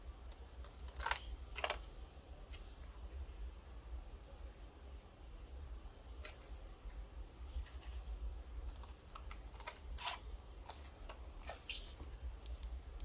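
Paper being cut with scissors while making a tea light candle box, a few crisp snips and rustles close by over a quiet room hum, with a light tapping pattern throughout.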